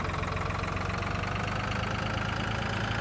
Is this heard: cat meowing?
no